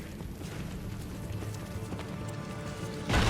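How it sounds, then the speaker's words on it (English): Hooves beat in a rapid, steady rhythm as a horse gallops in Assassin's Creed: Brotherhood, moderately loud over a low ambient bed, with a louder burst at the end. "Faster to travel by horse."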